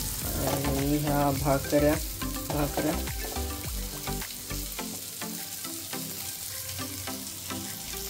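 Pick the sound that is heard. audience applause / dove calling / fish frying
fish frying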